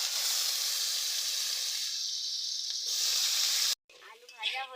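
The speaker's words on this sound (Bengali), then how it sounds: "এই আলুগুলো ভেজে নিচ্ছি।" Potatoes frying in oil in a pan over a village clay stove give a steady, close broadband sizzle that runs for several seconds, then cuts off abruptly and gives way to softer scattered sizzling.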